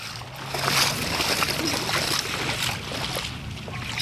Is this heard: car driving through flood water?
yes